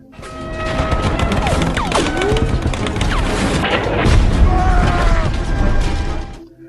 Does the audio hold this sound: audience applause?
no